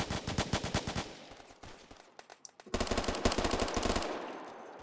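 Rapid automatic gunfire in the shooter game Phantom Forces, loud bursts of rattling shots that pause briefly, then resume in a dense continuous stream with a brighter tone.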